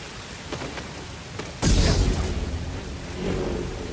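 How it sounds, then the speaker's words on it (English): Rain and thunder in Star Wars Jedi: Fallen Order: a steady wash of rain with a loud thunderclap breaking in midway and rumbling on, with no one talking. "A lot of rain here."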